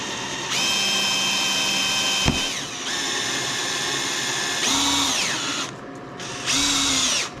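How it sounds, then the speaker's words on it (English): Hand-held power drill boring into a metal indexing plate for a lathe gear: a loud, steady whine that runs for several seconds, cuts off briefly, then restarts in shorter bursts of varying pitch, with no talk. "I'm actually going to go ahead and just hand drill this rather than trying to plant this in the middle."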